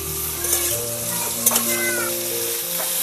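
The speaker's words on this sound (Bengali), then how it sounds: "যতক্ষণ না কুমড়ো থেকে হালকা জল বার হচ্ছে ততক্ষণ কিন্তু কুমড়ো এবং আলুটাকে নাড়িয়ে যেতে হবে।" Pumpkin and potatoes fry in a pan with a steady, close sizzle while a spoon stirs through them, scraping and clinking a couple of times, with no voices.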